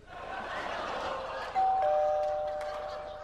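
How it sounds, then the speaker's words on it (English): A doorbell chimes in a comedy sketch, a bright sustained tone entering midway over a low murmur of studio audience noise, moderately loud and ringing out briefly. "it was just the doorbell"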